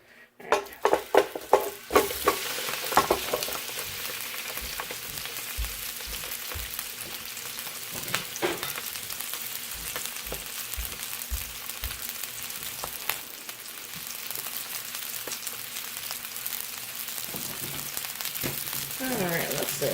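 Sausage, peppers and onions fry in a skillet with a steady, dense sizzle and scattered sharp pops, opening with a few clattering stirs against the pan.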